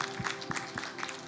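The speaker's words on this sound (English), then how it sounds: "How about a round of applause for Christ Jesus" Applause in a Samoan Christian church service, a short stretch of quiet, scattered clapping from the congregation over a low hum, somewhat distant.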